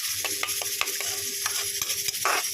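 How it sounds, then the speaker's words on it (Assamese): Steady sizzling of fish frying in oil with repeated stirring scrapes, close and fairly loud, no voices. "মাছৰ তেলে মাছ ভাজি আছোঁ।"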